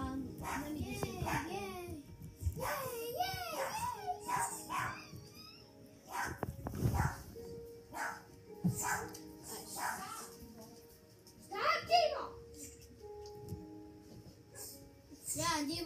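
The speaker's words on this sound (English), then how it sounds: "I just went and told Diva to stop barking because I was doing something" A pet dog barks and whimpers indoors in a home, with short sharp barks scattered through the clip alongside children's voices, hand noises and household clatter.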